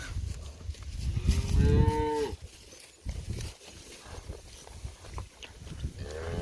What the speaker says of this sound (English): This is my favorite cow.